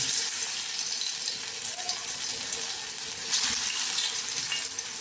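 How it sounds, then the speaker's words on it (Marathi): Continuous bright sizzle of colocasia-leaf vadi frying on a hot griddle, close and steady, with a brief louder crackle midway. "ह्या पद्धतीने आपण वड्या आता तळणार आहोत"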